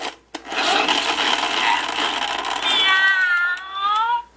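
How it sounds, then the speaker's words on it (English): A rough scraping ratchet as the dial of a classic Fisher-Price farm animal toy turns, then the toy's electronic cat meow rings out clearly near the end. "it says this is a cat, and then it meows"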